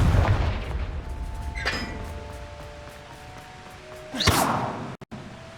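Fire blast spell explosions from the game Hogwarts Legacy: a heavy boom at the start, a sharper crack near two seconds, then a louder whooshing blast after four seconds, with ringing tones hanging between.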